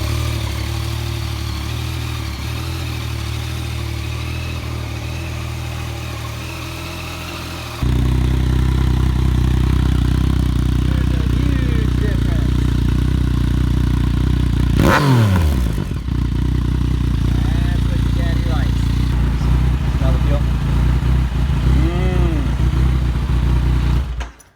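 Stock-exhaust 2015 Yamaha FJ09 motorcycle engine idling steadily at close range, with a loud low rumble that rises in level partway through and a brief rev swell in the middle, no talk.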